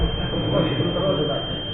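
An alarm sounds during a religious study session, giving a steady buzzing drone that runs unbroken for its full length at moderate loudness, with no talk over it.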